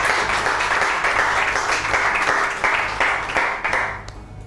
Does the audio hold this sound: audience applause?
yes